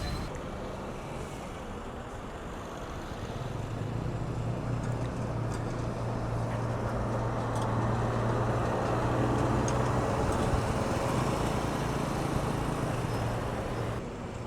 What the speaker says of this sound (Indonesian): Murni Jaya tujuan ke Cilacap Kroya diberangkatkan dari Terminal Pakupaten Serang.